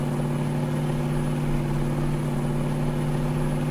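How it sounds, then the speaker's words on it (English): Lorry engine in the Farming Simulator 19 video game runs at a steady idle-like hum, a constant low drone with strong low tones and a faint high whine, even in level throughout, no speech. "I couldn't do without this lorry. We just need the speed."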